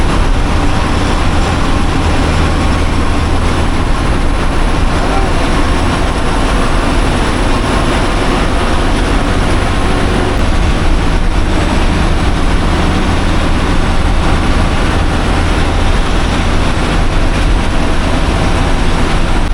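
An express train running from Rameswaram to Tambaram passes a level crossing, a loud continuous low rumble and roar that stays heavy and steady from start to finish, with no voices.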